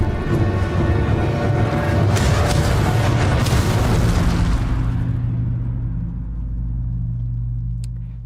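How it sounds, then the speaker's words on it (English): Loud, booming explosions rip through a Ghost of Tsushima battle, a dense rumbling blast that fills the first half and then settles into a long low roar that slowly fades. "Taken out by explosions."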